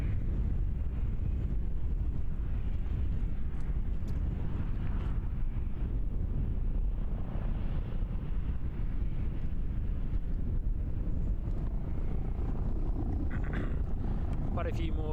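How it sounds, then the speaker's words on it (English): Strong wind buffets the microphone at Christchurch airport during plane spotting, a steady loud broadband roar throughout with distant engine rumble underneath and a voice talking over it. "this is getting a little bit crazy at the moment with the wind"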